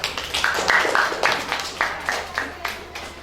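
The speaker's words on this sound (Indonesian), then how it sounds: "Tepuk tangan semuanya" Children in a sixth-grade Islamic religious education class clap in a loose, uneven burst of distinct claps, close and fairly sparse, with some faint voices mixed in.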